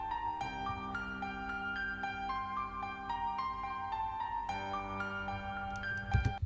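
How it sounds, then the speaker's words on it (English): Piano patch from a Kurzweil PC3K7 keyboard playing sustained chords, with a note sequence moving over held tones, fairly quiet and unaccompanied, and a louder burst near the end. "the first major featureless component, is the piano sound"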